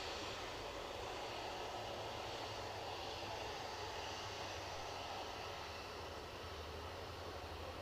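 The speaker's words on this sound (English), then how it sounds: "So inbound, we've got Delta Airlines 767 inbound from New York JFK." A 28-year-old Delta Airlines Boeing 767 arriving at Edinburgh Airport from New York JFK, heard as a steady, distant jet engine roar that holds at an even level throughout.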